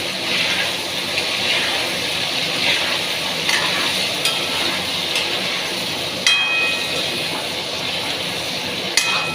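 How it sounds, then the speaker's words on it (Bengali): Cauliflower frying with turmeric in a pan, stirred steadily: a constant dense sizzle with scattered scraping clicks of the utensil against the pan, close and fairly loud, no voices. "একটু হলুদ দিয়ে দিচ্ছি। এবার আমি নাড়াবো, একটু ভাজবো।"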